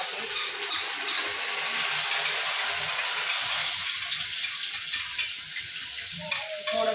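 Ground coconut and garlic paste hits hot oil in a pan with a loud, steady sizzle and hiss that eases slightly toward the end, with faint stirring underneath and no talking.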